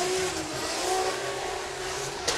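A Toyota Chaser JZX100 drift car at a Formula Drift event roars with a loud, sustained engine note that shifts pitch slightly, heard at a distance over crowd and track ambience.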